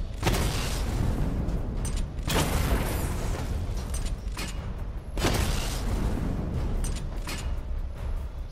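The Batmobile's missile barrage in Batman: Arkham Knight fires in heavy, booming bursts about every two to three seconds, each a loud blast over a constant rumbling, mechanical game soundscape.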